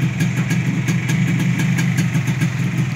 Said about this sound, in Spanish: vamos a poner la moto en marcha para ver si está quemado el foquito